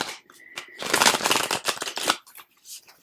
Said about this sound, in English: let's get some tarot. I'm going to be using the Luna Soul Tarot for this.